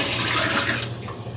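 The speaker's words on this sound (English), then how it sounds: "so I'm just going to dump the water out" Water is dumped out of canning jars, splashing and pouring in a steady gush for about a second, then tapering off to a softer trickle.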